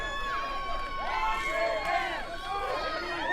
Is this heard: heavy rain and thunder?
no